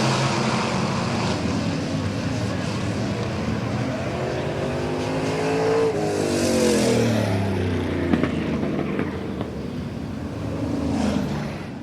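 Economy modified race cars accelerating on a speedway after a restart, engines roaring close with rising, overlapping revs as the pack passes through the turns, loud and continuous.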